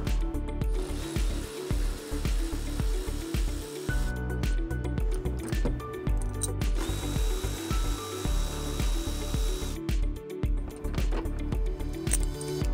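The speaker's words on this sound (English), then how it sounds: "we're going to remove the cargo hooks on both sides. We're going to use a 10 millimeter socket." A ratchet with a 10 mm socket turns out the cargo hook bolts in the cargo area of a 2019 Chevrolet Trax, giving repeated close clicking bursts over steady background noise.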